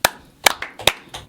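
A few claps from an audience on a Guadeloupe TV show, five sharp separate hand strikes spaced about every half second, close and fairly loud with no talk.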